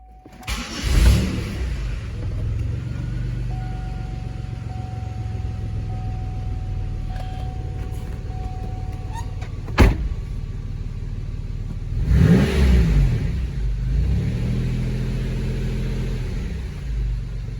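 A Chevrolet car engine, after a crankshaft position sensor (P0335) fault fix, cranks and catches, then idles steadily with a low rumble; it revs up briefly midway and again near the end.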